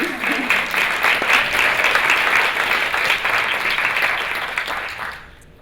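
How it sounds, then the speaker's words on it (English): Audience applause at a corporate summit, a full room clapping steadily for several seconds before fading out, with a voice briefly audible underneath. "So we could have a round of applause for Jen."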